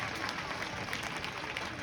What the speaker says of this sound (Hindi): तालियां इस बच्चे के लिए